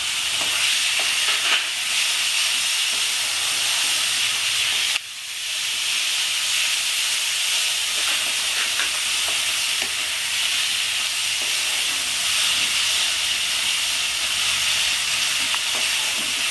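Tomato and a paste of stone-ground cumin, coriander and black pepper fry in a pan for a Bengali bata fish curry, a steady loud sizzling hiss with stirring scrapes throughout and a brief dip partway through.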